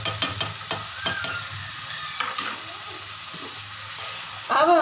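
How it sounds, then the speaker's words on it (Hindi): Chicken karahi sautéing in a pan, with a close, steady sizzle of hot oil and several scraping stirs of a spoon early on, ending in a louder burst of frying. "इसको हमने एक या दो मिनट तक भूनना है।"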